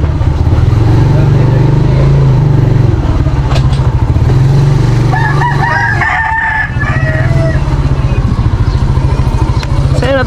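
Several chickens crowing and clucking close by, with a low motor humming underneath throughout.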